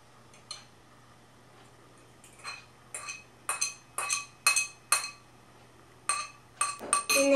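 Ravioli filling of fresh parsley and eggs being mixed in a bowl, with a run of irregular clinks and scrapes of a utensil against the dish, fairly close and quiet, with short pauses between strokes.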